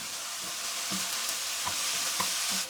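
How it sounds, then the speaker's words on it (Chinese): Shredded zucchini, bean sprouts and potato shreds stir-fry in a hot pan, giving a continuous loud sizzle broken by soft spatula scrapes and taps at an uneven rhythm. "接着我们再加入西葫芦丝跟豆芽，给它翻炒变软"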